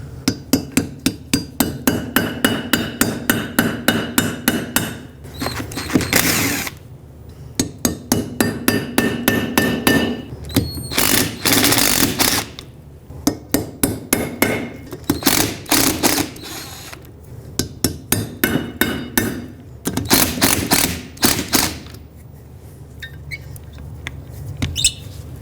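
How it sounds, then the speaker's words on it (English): A 10mm socket is hammered onto a badly rotted Torx bolt on a 2012-2017 Toyota Camry front backing shield, close metallic strikes in rapid bursts broken by short pauses, with no talk. "So I'm just going to hammer on a 10mm socket."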